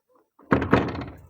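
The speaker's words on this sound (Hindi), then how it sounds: "दरवाजा हिला है" A door in a dark interior gives a short rattling thunk, a couple of quick knocks against its frame followed by a brief fading resonance, close and fairly loud, with no voices.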